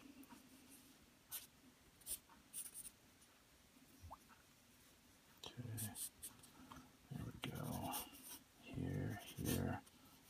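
Pencil sketching the wheels of a cartoon 2016 Mustang drawing, faint scratchy strokes close to the mic in short intermittent bursts, with soft talking over them.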